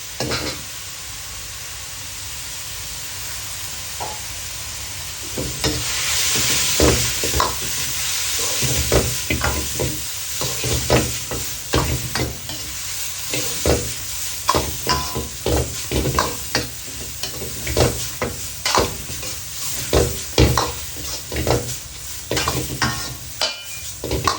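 Bamboo shoots and minced pork stir-fried in a pan for holy basil stir-fry with glass noodles: a steady close sizzle under rapid, repeated spatula scrapes and knocks that grow busier as it goes on, with no voices.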